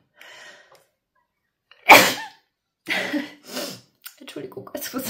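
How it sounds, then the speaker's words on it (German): A person lets out a single sharp, loud sneeze in a quiet room, with faint breathy vocal sounds before it and brief murmuring afterward. "Entschuldigung, jetzt muss ich niesen."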